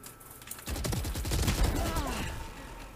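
Sustained automatic gunfire in the tactical shooter Valorant, quiet at first and then breaking into a dense, rapid string of shots that continues under voices talking before it eases off.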